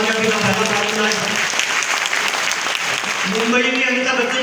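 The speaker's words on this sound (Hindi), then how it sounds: "ताली जोरदार वाली बजा लीजिए" Loud, sustained applause from a seminar audience at a polytechnic college, with a voice talking over the clapping throughout.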